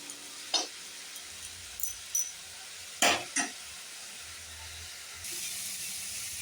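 Spices with salt and turmeric frying in a pan for a fish curry, a faint steady sizzle broken by a few sharp utensil scrapes and clinks, with a louder hiss near the end.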